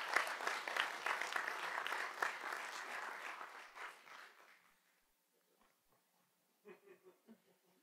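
Audience at a Huntington school board meeting applauds students, a dense burst of clapping that fades out over several seconds, followed by a few faint scattered sounds in the quiet.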